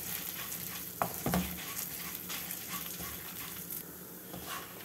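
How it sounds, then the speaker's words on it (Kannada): Asafoetida, turmeric and dry red chillies roast in a pan for a red chutney, producing a soft, low sizzle with a couple of spatula scrapes and taps early on, heard close and quiet. "ಈಗ ಇದಕ್ಕೆ ಇಂಗು ಅರಿಶಿನ ಮತ್ತು ಒಣ ಮೆಣಸಿನಕಾಯಿ ಇದನ್ನು ಸೇರಿಸಿ ಚೆನ್ನಾಗಿ ಹುರ್ಕೊಳ್ಳೋಣ"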